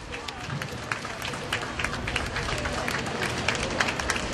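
Crowd applause and scattered clapping from spectators lining a Korean parade route in Los Angeles, dense and steady with a faint crowd murmur throughout.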